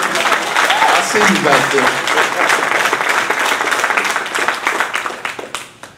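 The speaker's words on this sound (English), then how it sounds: "You can clap." Audience applause at a talk, a loud burst of clapping from many people that tapers and fades out toward the end, with someone speaking briefly over it.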